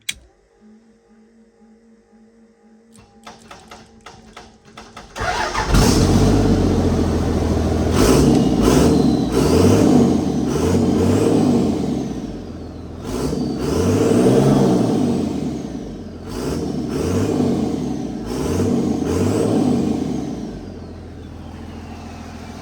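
A Cummins diesel swapped into a 1976 Ford F250 cranks briefly, catches near the five-second mark, then runs loud and close, revving up and down repeatedly with a rough, clattering roar.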